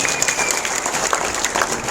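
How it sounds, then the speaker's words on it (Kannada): Applause from a lecture audience, a steady dense patter of many hands clapping throughout, moderately loud and without talk over it. "ಚಪ್ಪಾಳೆ ಕಟ್ಟಿದ್ರಲ್ಲ."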